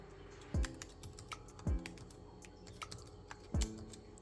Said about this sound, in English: I'm going to type in my name, my initials, and my organization is